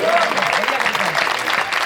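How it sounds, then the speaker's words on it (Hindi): An audience in a hall applauds in honour of the house, a steady dense clatter of many hands clapping at full volume that continues throughout. "एक बार पूरा सदन के सम्मान में तालियां"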